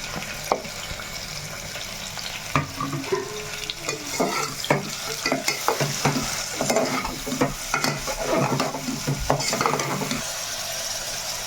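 Chopped onions, and green chillies by the end, frying in a pan for a goat head curry: a steady sizzle under repeated scraping and clinking stirs with a spoon, the stirring sounds coming in uneven bursts.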